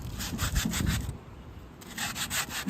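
Balled-up aluminum foil scrapes back and forth along the grooves of grill grates in close, rhythmic rubbing strokes, pausing briefly midway before resuming, with no talk.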